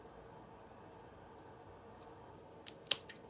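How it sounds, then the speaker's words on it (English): Garden snips close on a basil stem at the leaf node, giving one crisp, near snip preceded and followed by softer blade clicks over a quiet hiss; no talking. "We're just going to snip that off right there."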